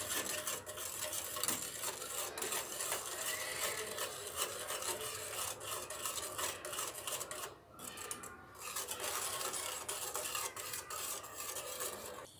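Chocolate syrup being stirred continuously in a pan over a medium flame, a steady rasping scrape of the spoon against the pan bottom, close and even, with a brief lull midway.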